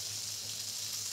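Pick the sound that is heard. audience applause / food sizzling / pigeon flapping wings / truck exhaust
food sizzling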